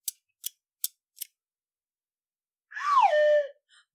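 Four crisp scissor snips in steady succession, loud and close, then a short whooshing swoop sound effect, with no voices, set in a comedic theatre sketch.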